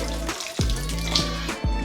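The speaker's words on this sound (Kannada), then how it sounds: "ಈಗ ಇದಕ್ಕೆ ಸ್ವಲ್ಪ ನೀರು ಹಾಕೋತೀನಿ, ಜಾಸ್ತಿ ಹಾಕೋಬೇಡಿ." A little water poured into a bowl of curd rice, a short continuous splash with a few brief sloshing bursts, close and fairly loud, with no talking.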